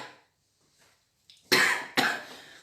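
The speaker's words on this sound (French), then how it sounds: "Vous me pardonnerez si je tousse un peu" Two sharp, close coughs in quick succession after a near-silent stretch with a faint breath or throat sound.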